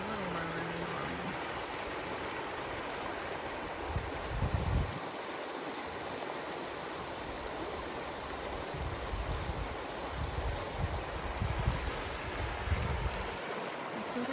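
River water flowing at a low October level near a small beach, a steady broadband rushing wash, with intermittent low wind buffeting over it and no clear speech.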